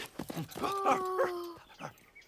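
A dog whimpers and whines in a short, rising and falling cry while digging a hole, with soft scuffling and panting around it at close range.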